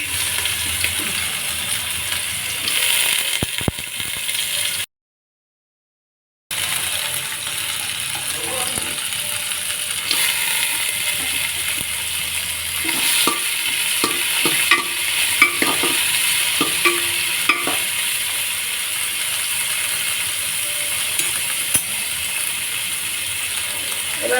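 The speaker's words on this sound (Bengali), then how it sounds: "এবার সবজিগুলো সব ভেজে নেব দিয়ে দিলাম গাজর কুচি" Carrot bits and mixed vegetables fry in hot oil and ghee with bay leaf, cardamom, cinnamon and cloves, giving a steady broadband sizzle broken by repeated scraping stir strokes and clatter, with a brief silent gap early on.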